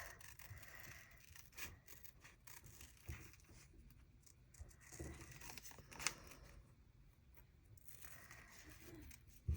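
Scissors snipping paper while trimming a piece with a small curl for a creative journal's horizontal Dutch door pages, a steady run of close, soft cutting and rustling sounds with a few sharper snips, no voices.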